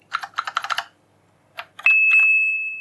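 An Oric Nova 64 home computer under repair emits sound-chip tones: a rapid run of short chirping beeps, a pause, a few more blips, then a sustained steady electronic tone that slowly fades, loud and close.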